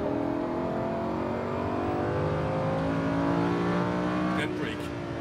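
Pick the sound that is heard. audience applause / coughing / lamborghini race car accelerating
lamborghini race car accelerating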